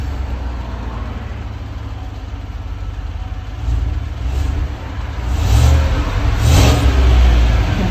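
A stock 2015 Chevy Tahoe with the 5.3-liter V8, factory resonator and muffler, revs steadily and loudly, building in two swells toward the end with no talking over it.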